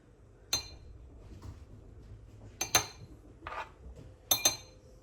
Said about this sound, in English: So now let's scoop out the middle.